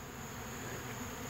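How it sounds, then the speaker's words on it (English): Honeybees buzzing around an open sugar feeder, a dense, steady drone from many insects at once, constant and soft with no breaks. "these bees right here will go somewhere and find a source of sugar"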